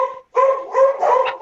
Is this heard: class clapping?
no